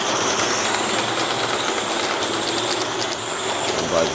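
A steam locomotive, Railroad 060, runs with its engine lit off at a steam-up event, giving a loud, steady, close hiss and rumble that continues without pause and with no talking.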